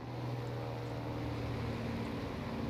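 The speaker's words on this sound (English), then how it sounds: "The planes are really loud" Plane engines in the video game War Thunder, a continuous loud droning hum with a steady low tone, alone and unbroken.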